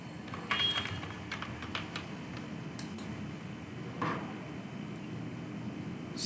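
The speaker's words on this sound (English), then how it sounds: "let's type my username and password again" Fingers type a username and password on a computer keyboard, producing scattered clicks in short bursts with brief pauses, close and moderately quiet over faint background hiss, with no voices.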